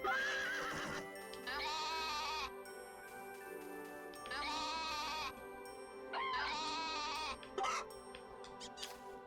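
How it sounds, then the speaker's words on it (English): Restless sheep in the Story of Seasons farming game bleat in three distinct drawn-out calls, each rising clearly above soft background music with light chiming tones. "The sheep are just restless."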